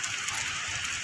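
Heavy rain pours in a dense, continuous hiss with no breaks, loud and close over the whole short span.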